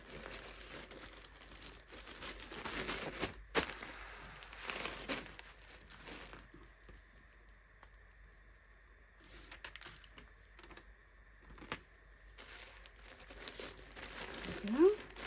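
Crinkling and a short tearing rasp as a strip of tape is pulled and pressed onto a clothing parcel, with intermittent rustles and a voice talking over parts of it.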